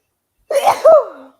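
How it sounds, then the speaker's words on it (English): A single loud, close sneeze, a short breathy intake followed by a sharp burst, alone in an otherwise quiet room. "bless you"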